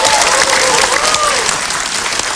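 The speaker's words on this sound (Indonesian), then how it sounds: "Tepuk tangan sekali lagi untuk Wati." A studio audience at an Indonesian television reality show gives loud, dense applause for a contestant, a close wash of clapping with crowd noise and a faint whistle-like tone running through it.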